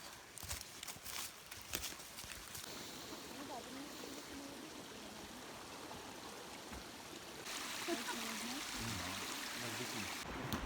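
Broadband rushing of a river stream flowing steadily in spring woodland where hikers prepare to ford, with footsteps and faint voices mixed in, the water growing louder toward the end.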